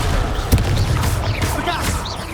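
Confringo blasting spell in the Hogwarts Legacy game: a dense, loud jumble of booming blasts and crackling impacts over constant battle noise, with sharp bangs scattered throughout.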